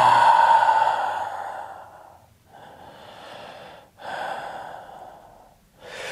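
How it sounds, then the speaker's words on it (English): A deep full breath drawn in and let out during a yoga exercise, close and audible, with a long inhale followed by slower exhales and soft breathy sighs, no talking. "1 more deep full breath"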